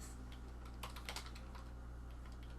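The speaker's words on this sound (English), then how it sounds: "He's typing in the real chef." Quick bursts of keystrokes on a computer keyboard, light clicky taps clustered in short runs over a steady low electrical hum, close and quiet with no talk.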